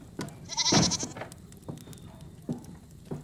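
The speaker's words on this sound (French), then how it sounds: "Mes chèvres sont toutes agitées ce matin" Goats bleat in a goat shed, a horror-story sound effect. Several wavering, quavering calls overlap with one loud near cry and shorter bleats around it.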